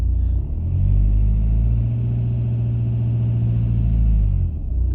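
A 2000s Audi A4 1.9 TDI AWX diesel engine with an injector fault revs up from idle, holds a loud, close, deep droning rise for several seconds, then drops back to idle.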